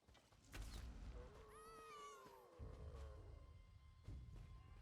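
A drawn-out meow from a cat in The Elder Scrolls Online rises and bends in pitch over a steady background hum and clatter, heard once against a busy, noisy backdrop.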